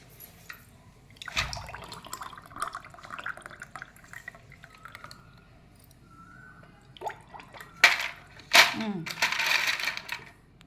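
Ice cubes drop into a glass of mango juice with a few sharp clinks and splashy rattles, one early and a cluster near the end, up close among quiet background noise.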